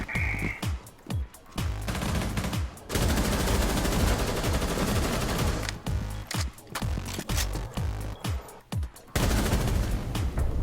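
Gunfire in the video game Rainbow Six Siege rings out in repeated sharp bursts and rapid automatic volleys, loud and close, separated by brief gaps with no voices over it.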